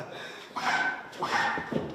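Children imitate a dog barking from a garden, two short yappy bursts of vocal barking at moderate distance, a little faint, with a brief gap between them.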